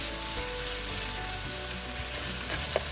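Pre-cooked pork frying in a pan, giving an even, hissing sizzle that stays steady throughout, close by, with a brief sharp tap near the end.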